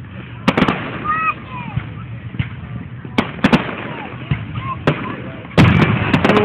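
Fourth of July fireworks in Santa Maria, California boom and crackle repeatedly, some sharp nearby bangs and distant pops, with whistles and a crowd murmuring underneath.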